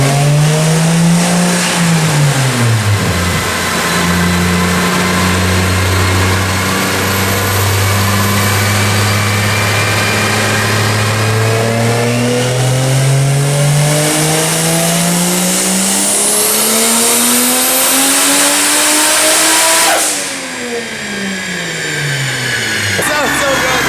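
Turbocharged Lexus IS300 with a 2JZ-GE-T engine revving hard on a dyno, pitch climbing steadily through a long pull, then dropping sharply and settling into a lower drone.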